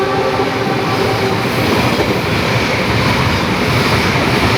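A train roars past at about 120 km/h, a loud continuous rumble with rhythmic rattling of wheels on track.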